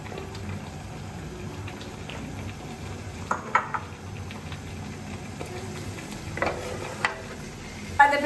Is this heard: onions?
yes